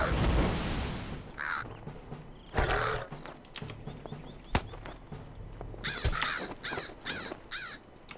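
Several harsh caws come from a crow-like bird in Lord of the Rings Online, a few loud calls early on and a quick run of four or five caws near the end, set between thumps and other game sounds.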